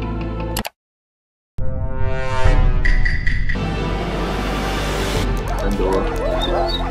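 Several dogs bark, yip and whimper in a war-themed video game, with a brief cut to silence before the barking resumes steadily and fairly close.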